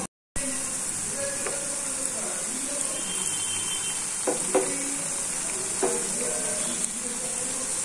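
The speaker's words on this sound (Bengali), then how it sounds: "তেল গরম করে কোপ্তাগুলো ছেড়ে দিয়েছি" Raw banana koftas fry in hot oil with a steady, moderate sizzle and occasional soft clinks from a utensil, after a brief silent moment at the start.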